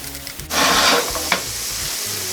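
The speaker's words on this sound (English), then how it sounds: "A little butter. Get our onions in there." Onions drop into melted butter in a pan and burst into a loud, close sizzle that holds steady after a brief scrape, with no talking.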